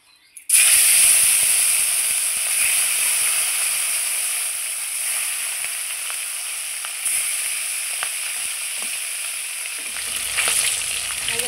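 Rohu fish pieces sizzle steadily in hot oil in a kadai, with a loud, continuous frying hiss after an abrupt start and faint scrapes and pops throughout.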